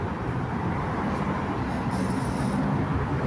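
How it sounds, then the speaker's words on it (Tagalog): Night-time road traffic streaming by at a busy street, a continuous dense rumble of passing vehicles at moderate distance, steady and unbroken with no voices. "Ito no, traffic."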